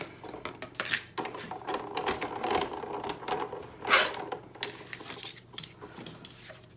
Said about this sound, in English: I'm gonna get my die cutting machine here, my trusty Cuttlebug.